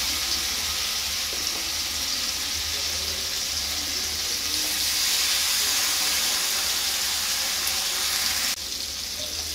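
Marinated chicken pieces for tandoori fry in butter in a pan, giving a loud, steady, close sizzle that hisses on without break and has no voices over it.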